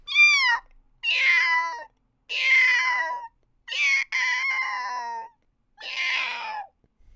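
A person imitates a cat's meow with their voice, giving five drawn-out, mewing calls in a row, separated by short pauses, loud and close with no other talk.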